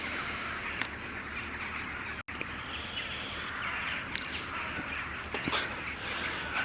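A large flock of crows in a tree at dawn caws in scattered, overlapping calls over a dense, steady bed of birdsong and outdoor ambience, heard from nearby on a fen.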